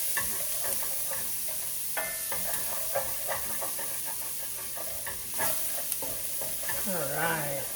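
Food sizzles steadily in a hot pan while a utensil stirs it, with irregular scraping strokes over a continuous frying hiss, close and moderately loud.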